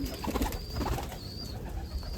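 Soft, low cooing of pigeons on a rooftop, a few gentle burbling calls close by against a quiet background.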